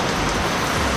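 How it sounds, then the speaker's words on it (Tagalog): Heavy rain pours down steadily and loudly, a dense continuous hiss of drops hammering surfaces close by with no pauses. "napakalakas ng ulan mga kasani"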